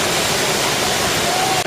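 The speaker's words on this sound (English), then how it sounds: "Quite a fantastic waterfall." A large waterfall in Scandinavia roars as a broad, steady rush of white noise, loud and continuous, heard from beside a stopped train.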